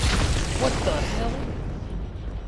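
A grenade goes off and blows a body apart in the video game Halo 2, a loud deep boom at the start that rumbles and fades over a couple of seconds amid game noise.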